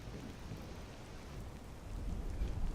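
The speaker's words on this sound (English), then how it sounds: "the thunder is very loud" Steady rain hisses while a deep thunder rumble swells toward the end, the stormy ambience of the video game Skyrim, dense and continuous with no speech.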